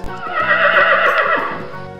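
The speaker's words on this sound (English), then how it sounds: "Horse." A horse neighs loudly nearby, a single drawn-out whinny with a wavering, shrill tone lasting about two seconds.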